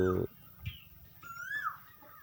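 Brief high chirps and peeps from young chickens, close by, over a low murmur of background noise.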